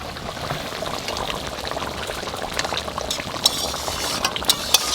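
Mustard sauce pours over hilsa fish cooking in a pan, a close, continuous bubbling, liquid wash with a few small clinks near the end.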